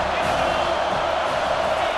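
Stadium crowd noise in the college football video game CFB 25, a steady, dense roar of cheering fans that holds at an even loudness throughout, with no clear speech over it.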